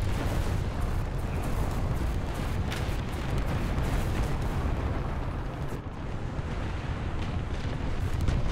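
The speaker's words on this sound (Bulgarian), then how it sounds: "Артилерия, огонь!" Continuous artillery fire in War Thunder, a dense, loud rumble of blasts and booms running unbroken throughout, with wind-like roar beneath.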